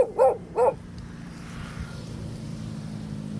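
A stray dog in a rural outdoor spot gives two quick, sharp barks at a moderate distance, then falls silent, leaving a low hum of outdoor ambience with a distant engine.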